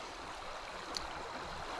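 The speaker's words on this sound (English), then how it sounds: "water running over the surface of the granite like this" Water running over a granite rock shelf outdoors, a steady faint broadband rush with no distinct splashes, heard alone without voices.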